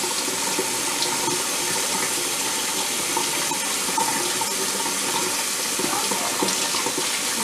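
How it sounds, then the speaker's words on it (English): Water is added with a cup to carrot juice, giving a steady, loud rush of pouring and splashing that runs continuously throughout without talk. "I'm going to add a little bit of water."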